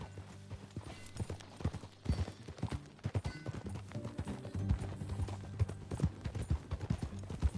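Horse hooves clip-clopping as riders travel in Red Dead Redemption 2, a steady rhythmic trot of several hoofbeats with low game music underneath, moderately loud and close.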